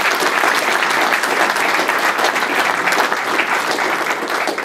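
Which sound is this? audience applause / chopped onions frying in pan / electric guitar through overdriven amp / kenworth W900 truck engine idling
audience applause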